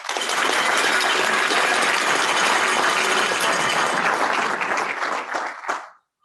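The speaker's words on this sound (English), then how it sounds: "how about another round of applause for all of our nominees?" A large audience at a 5th Bomb Wing Air Force annual awards ceremony applauds the nominees, with steady, loud, sustained clapping for about six seconds before it stops abruptly.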